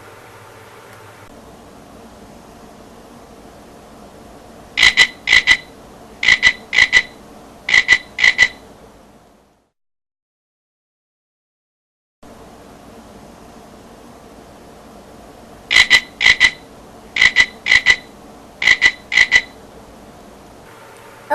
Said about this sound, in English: until after you hear the magical frog chirping 3 times once again